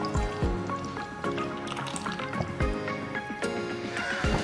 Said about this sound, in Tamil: கஸ்டர்ட் பவுடர்ல கொஞ்சம் வாட்டர் இல்லனா பால் ஆட் பண்ணிட்டு நல்லா கரைச்சிட்டு பால்ல அப்படியே ஆட் பண்ணிடுங்க